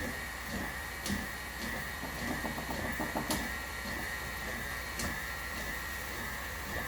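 An electric mixer whirs steadily through vanilla cake batter, a continuous motor hum with a faint rhythmic rattle of beaters against the bowl.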